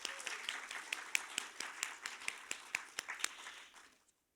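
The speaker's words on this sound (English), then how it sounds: "let's give them a big round of applause" Audience applause at a town meeting, a small group clapping steadily with distinct individual claps for about four seconds, then fading out.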